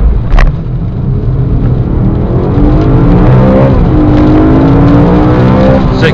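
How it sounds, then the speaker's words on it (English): A 2012 BMW M3 engine revs hard during a 0 to 60 run and climbs in pitch through the gears, loud and close, with a brief knock at the start. "I think we owe it to ourselves to do a 0 to 60 test"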